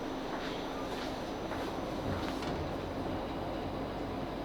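A South Western Railway Class 458 electric multiple unit runs toward Egham with a steady, moderately loud rolling rumble and broadband hiss heard from on board, continuous throughout with no speech.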